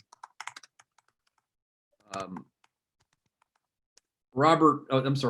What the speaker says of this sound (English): let me type the guy's name